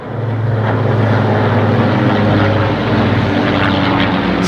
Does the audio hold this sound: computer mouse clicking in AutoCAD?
no